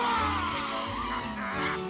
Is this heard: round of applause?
no